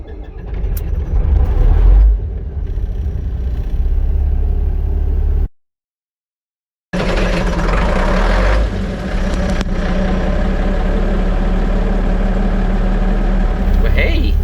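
A Volvo F7 truck diesel engine rumbles steadily at a cold-start idle, loud and close, with a brief cut partway and people talking over the running engine.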